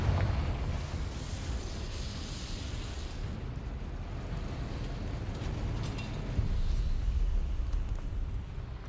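A Confringo blasting spell explodes in Hogwarts Legacy, a sustained roaring burst with heavy low rumble that continues for several seconds and then swells again near the end, with no voices.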